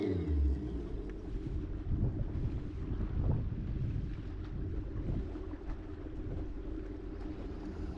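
Boat outboard motor idling while passing slowly over a point on a lake, a steady low rumble with wind buffeting the microphone throughout, no voices.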